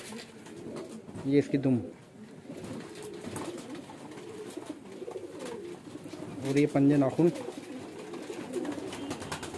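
Domestic pigeons, Kalsire, Bajre, Chhapdar and Ude types kept for sale, coo in low throaty bursts twice, near and fairly loud, under someone talking.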